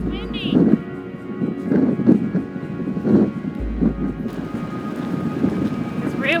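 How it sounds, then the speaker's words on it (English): Strong wind gusting across an exposed trail in southern Iceland, with low rumbling buffeting on the microphone that swells and eases in several bursts, along with some faint background voices. "It's real windy."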